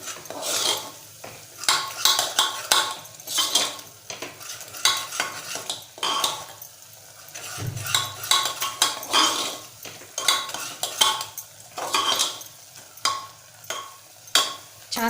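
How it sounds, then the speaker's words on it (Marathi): Garam masala and coriander powder sautéing in oil in a pan for a sprouted brown chana usal, with steady scraping and clinking of a spoon stirring throughout, close and fairly loud, with no talking. "छान परतवून घेऊया तेलामध्ये।"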